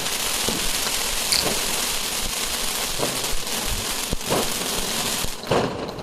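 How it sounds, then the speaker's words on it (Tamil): Fountain-type Diwali firecrackers fizz and crackle in a dense, continuous hiss, with a few sharper pops scattered through it. "இப்போ நீங்கள் பார்த்துட்டு இருக்கிற இந்த கிராக்கர்ஸ்லாம் பார்த்தீங்கன்னா ஃபவுண்டைன் டைப் தான்"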